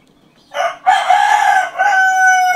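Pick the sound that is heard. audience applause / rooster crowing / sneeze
rooster crowing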